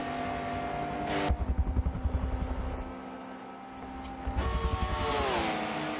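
Engines of racing video game cars roar loudly as an '80s Ferrari F40 chases a Porsche 959, with rising and falling revs, gear-change dips and steady high-speed drone.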